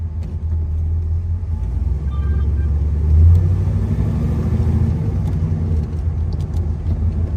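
A muscle car on the move gives a steady, low engine rumble with road noise, swelling briefly as it pulls away, heard alone without talk.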